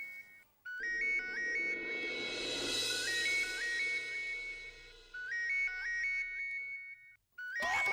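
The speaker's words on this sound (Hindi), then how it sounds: "ये रिंग कहाँ बज रही है?" A phone ringtone plays a repeating electronic melody in bursts, pausing briefly between phrases, fairly loud with a low background hum.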